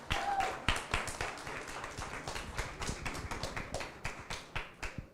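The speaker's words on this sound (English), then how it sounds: "So please, a warm round of applause and your attention for Daniel" Audience applause in a conference hall in Tallinn, welcoming a panel moderator at an event on global influence in the digital era; a modest crowd claps in a steady patter for about five seconds, with no talk over it.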